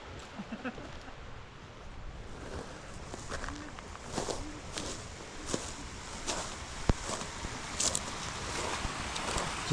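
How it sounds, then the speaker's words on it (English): A Utah mountain creek in the Pine Valley Mountains flows with a steady broadband rush. Footsteps crunch along the trail, wind buffets the microphone, and a voice is heard faintly at times. "Just following the mountain creek."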